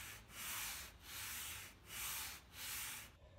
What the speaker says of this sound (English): used a thin strip of sandpaper on a thin board to sand the chamfers